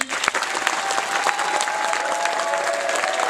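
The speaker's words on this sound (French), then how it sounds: "je vous demande d'applaudir très fort les amis" A studio audience at the Salle des Saulnières applauds loudly and steadily, a thick roll of clapping with a faint whistle threading through.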